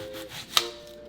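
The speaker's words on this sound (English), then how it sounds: "Now it's time to chop. So we got the skillet heating up, and we just get to chopping. So with an onion" A knife chops an onion on a cutting board while a skillet heats nearby, a single sharp close chop standing out over a steady background hiss.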